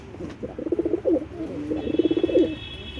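Two rounds of soft, rolling coos come from a pigeon held close, each a burst of throaty pulses, against a faint background hum.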